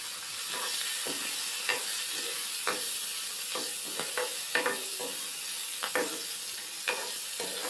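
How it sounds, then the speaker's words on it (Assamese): Hot chillies fry in oil in a kadai, a continuous close sizzle punctuated by repeated sharp spatters and stirring scrapes at irregular intervals. "জলকীয়াকেইটা তেলতে দি অলপ ভাজি ল'লোঁ।"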